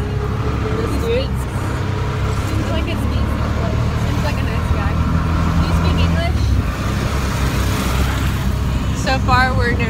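A small van drives along a road in Brazil, its engine droning steadily up close with road rumble underneath, while someone talks over the ride throughout.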